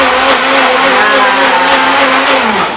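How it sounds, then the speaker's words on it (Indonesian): An electric blender whirs loudly and steadily, blending melon into juice, its motor pitch holding constant and then sagging slightly toward the end. "Kita blender dulu."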